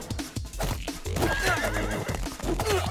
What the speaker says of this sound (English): We has a horse around here.